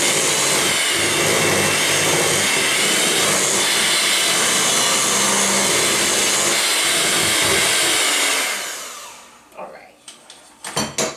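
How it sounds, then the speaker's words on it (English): Electric hand mixer beating peach pound cake batter in a home kitchen, a loud, steady, close whir that runs without pause for about eight seconds before cutting off, followed by a few light clatters of the bowl. "since the cord for my stand mixer wasn't long enough, I kind of had to do it with the hand mixer"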